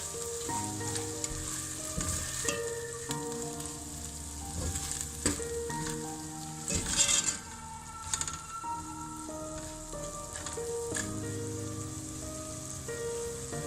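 Cumin and cinnamon sizzle steadily in hot oil, a constant close crackle with occasional stirring scrapes, for a Pakistani lobia masala, with music playing underneath and no talking.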